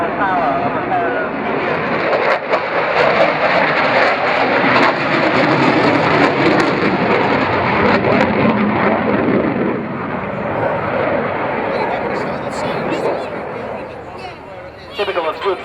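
A pair of fighter jets flying at the Lowestoft air show roar past in a sustained, loud, broadband jet rush that swells and slowly fades toward the end, with a commentator talking over it.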